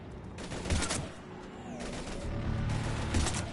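Rapid bursts of gunfire in the video game Mass Effect 3, loud, close volleys that start, stop, then resume across a few seconds over a low battle rumble.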